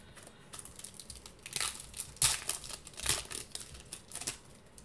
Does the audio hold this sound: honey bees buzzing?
no